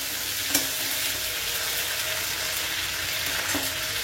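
Onion frying in a pan with ginger-garlic paste and chopped tomato, a steady soft sizzle with light stirring scrapes and a couple of brief utensil clinks, close by with no talk.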